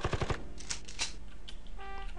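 Rapid automatic gunfire from a video game shooting at a stubborn safe, a quick burst of several sharp shots followed by clanking impacts and a ringing metallic tone at the end.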